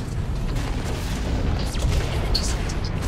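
A grenade explosion in the mech shooter Hawken rumbles as a broad, sustained boom that fills the whole clip, loud and continuous with a few brighter bursts near the end.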